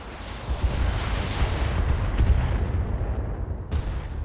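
Artillery strike firing in the BattleTech video game, a continuous heavy low rumble of barrage and booms rolling for several seconds, with a sharper blast near the end.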